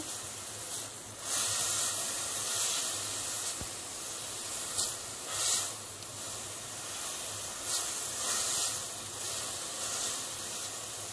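Onion frying in a pan for a spinach and chicken breast dish, a steady close sizzle and hiss that swells in brief surges as the onion is stirred, with no talking.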